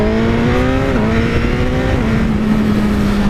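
Suzuki GSX-R1000R superbike engine screaming at high revs under hard acceleration, with a steady loud tone that dips briefly as traction control cuts in, rushing wind noise throughout.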